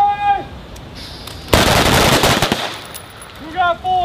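Rifle fire on an Army marksmanship training range with the 25th Infantry Division: a dense, rapid burst of overlapping loud shots from multiple shooters, cracking sharply for about a second, with voices before and after.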